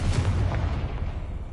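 A Confringo fire spell from Hogwarts Legacy lets out a loud, booming blast that roars as a dense wash of noise and then slowly fades over about a second and a half.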